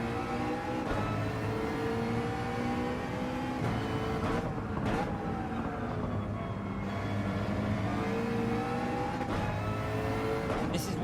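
A McLaren race car in Gran Turismo 7 revs and accelerates steadily, its engine note rising and falling through gear changes as it drives out of corners, loud and continuous.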